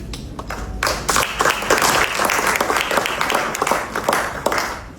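An audience at a memorial gathering breaks into applause after a brief quiet moment, a dense crackle of many hands clapping that stays steady and fairly loud.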